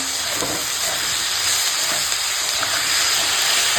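Ginger-garlic paste hitting a pan of lightly fried vegetables with greens, prawns and potato, giving a steady, fairly loud broadband sizzle and hiss throughout, with no talking.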